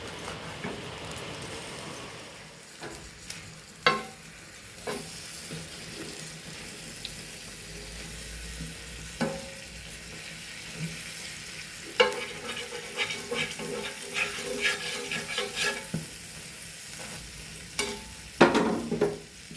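Madurai butter bun cooking on a hot pan, with a soft, steady sizzle and occasional sharp scraping clinks as it is stirred and turned, close up with no talking.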